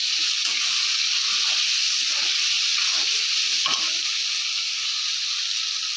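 Turmeric, salt and ginger paste sizzling and hissing in hot oil, a loud, steady fry close up with faint stirring scrapes and no talking.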